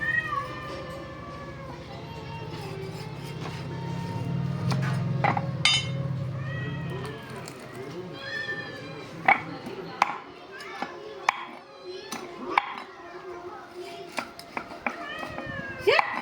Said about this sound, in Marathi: किती मांजरा आले रे